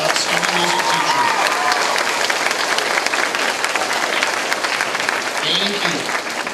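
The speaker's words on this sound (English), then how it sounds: "Would you give a big warm round of applause to Mr. Olmos, your outstanding music teacher." A school assembly audience applauds the music teacher, loud sustained clapping from a large crowd for several seconds, with a voice briefly audible over it.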